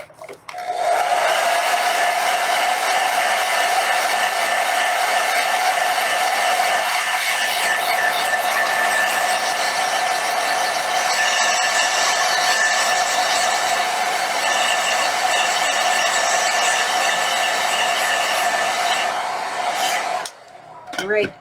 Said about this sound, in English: again, another go at the blow dryer